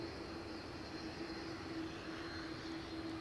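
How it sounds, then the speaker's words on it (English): An Air Canada Boeing 787-9 Dreamliner taxiing at Edinburgh airport gives off a steady, moderately distant engine hum with a whining tonal drone that holds even and unbroken throughout. "Air Canada on the move with their Dreamliner 9"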